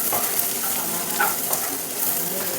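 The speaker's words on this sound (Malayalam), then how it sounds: "ഇനി ഇത്രയും മസാല നമുക്ക് നന്നായിട്ടൊന്ന് മിക്സ് ചെയ്ത് കൊടുക്കാം." Masala for chicken pepper dry fry is stirred in a hot pan, a steady sizzle with repeated scraping strokes and occasional sharper clinks of the spoon against the pan.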